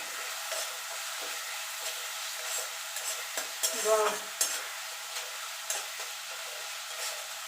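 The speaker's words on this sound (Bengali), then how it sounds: "কষিয়ে নেবো যতক্ষণ মশলা থেকে তেল না ছেড়ে আসছে" Spices with turmeric and cumin powder frying in oil in a pan for a Bengali bottle gourd dish, an even hissing sizzle broken by stirring scrapes and a few clinks.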